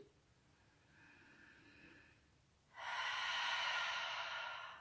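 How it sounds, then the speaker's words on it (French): A person breathes during a yoga exercise: a soft inhale, then a strong, breathy exhale out through the mouth, close and clear in an otherwise quiet room. "inspire, on lève les deux épaules, expire par la bouche"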